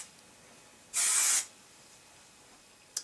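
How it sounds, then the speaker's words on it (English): One half-second burst of aerosol hairspray, a loud close hiss, then quiet with a tiny second puff at the end. "I'm just going to lift up my hair and spray just like this"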